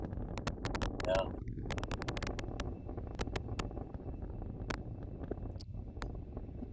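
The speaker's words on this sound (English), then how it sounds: "the sound of those motor engines have got to just be" A Starship rocket with Raptor engines lifts off, giving a steady, broad roar with crackling bursts that carries through the whole clip while voices talk over it.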